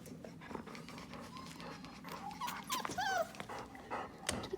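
Tiny puppies whimper, yip and growl with their mother dog nearby, a busy run of high squeaky cries and low grumbles that stays fairly close and steady.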